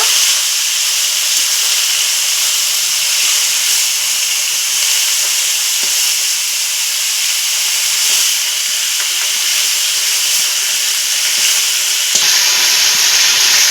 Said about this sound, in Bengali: এই উল্টো পাল্টাগুলো করে মাছগুলো ভেজে নিব